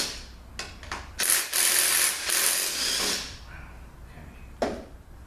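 Ratchet wrench turning out center support bolts during a 2004R transmission teardown, close-up bursts of rapid clicking separated by pauses, with a final short click burst near the end.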